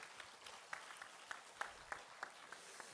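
A church congregation claps in praise at the close of an evening worship service, a faint, thin wash of applause punctuated by a few sharper individual claps, with no talking.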